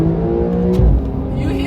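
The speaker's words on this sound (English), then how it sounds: "I'm gonna floor it for you right now." A 2022 Porsche 911 Carrera engine revs hard at full throttle, accelerating onto a highway, loud and close, with a brief thump midway and a voice faintly underneath.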